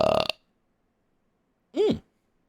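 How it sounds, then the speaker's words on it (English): A single short, low burp, close and loud, alone after a brief burst of sound at the start, followed by silence. "Burp break."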